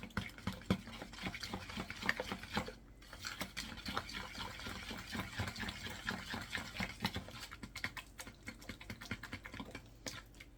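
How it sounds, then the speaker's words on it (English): Eggs being beaten into banana bread batter, a steady quick clatter of a utensil against a bowl, fairly faint and close, running almost without pause and with no talking. "We are now going to beat in our eggs."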